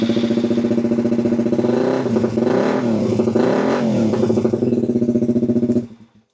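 A motorcycle engine fitted with a Power Commander runs loud and close at a steady idle with a rhythmic pulsing throb, swelling briefly in the middle, then cuts out and falls silent near the end.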